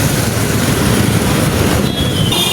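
A metro train rolls by loudly and close, with steady wheel rumble and rail noise and a faint high squeal near the end.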